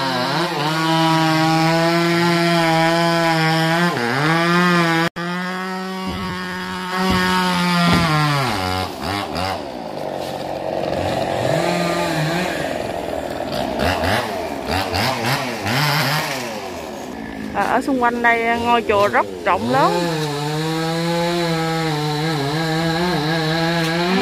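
A chainsaw cuts through a large, tall xà cừ tree beside a pagoda, its engine droning steadily and close, the pitch rising and sagging as the blade bites, with someone speaking over it.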